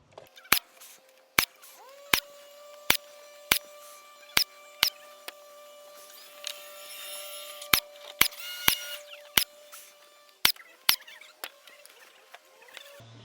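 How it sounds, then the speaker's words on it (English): A nail gun drives stainless steel nails into PVC exterior trim, firing about a dozen sharp, close snaps at irregular intervals over faint background noise. "we're going to shoot some stainless steel nails through it"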